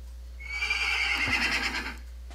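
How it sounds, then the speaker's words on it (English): A horse neighs in a video game, a single long whinny rising to full loudness and holding for over a second before tapering off, close and clear with no talk over it. "Oh, I found a horse!"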